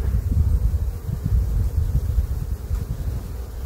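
Honeybees swarm around an open hive during a spring honey harvest, making a dense continuous low buzz close to the microphone, swelling and fading slightly and roughened by wind noise, with no voices.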